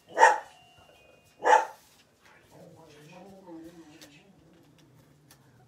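Pet dogs barking at a visitor who rang the doorbell: two loud, close barks in quick succession, then a lower murmur of grumbling and indistinct voices fading underneath.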